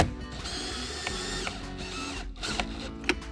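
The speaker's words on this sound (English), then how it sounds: "This is a pretty powerful drill, but you want to slightly dimple the screw." A power drill whirs steadily at close range for a few seconds, its motor pitch holding fairly even with small bumps as it drives a screw into a window frame.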